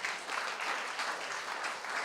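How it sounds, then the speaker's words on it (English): Audience applause at a live hackathon event in Vizag, a steady wash of many hands clapping, moderately loud and continuous throughout with no talking over it. "Guys, with a huge round of applause."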